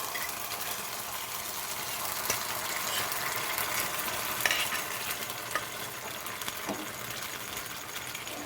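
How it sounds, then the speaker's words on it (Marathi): Cooked wheat sautés and is stirred in a pan for a wheat kheer, a steady soft sizzle with occasional light scrapes and clicks of the spoon, no talking. "आता जे गहू आपण शिजवले होते ना ते चांगले परतून घ्यायचे."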